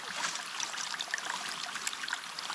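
Water running from a garden irrigation hose laid across a vegetable plot, a steady close trickle and gurgle with small splashes, continuous and unaccompanied by speech.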